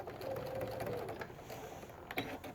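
A sewing machine stitches binding onto a quilt in a steady, close whirring run that stops after about a second, followed by a light click and quiet handling.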